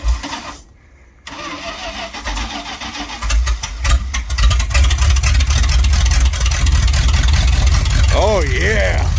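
A Dodge street van with its exhaust cut off cranks and fires up, then settles into a loud, raw, rumbling idle close by, while people talk over the engine.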